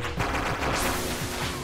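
Gunfire from a drawn handgun in The Real Texas, a retro action role-playing game, comes as a dense, loud burst of rapid shots running continuously for under two seconds with no pause.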